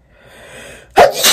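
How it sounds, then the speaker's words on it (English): A single person sneezes: a rising, breathy intake builds for almost a second, then bursts into one sharp, loud sneeze, close up. "Oh my God, I need to sneeze."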